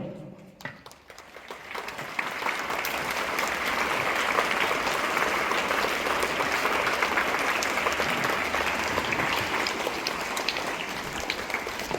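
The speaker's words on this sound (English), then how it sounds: "give round of applause once again to Master Champion, the wonderful Mitchell J" A large crowd at a football club appreciation event applauds, the clapping swelling quickly into a sustained, dense roar of hands that continues steadily throughout.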